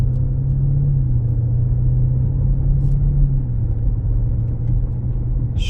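A 2023 Lamborghini Urus S cruising in standard mode, heard from inside as a steady low engine and road rumble with a faint hum, constant and even with no talking.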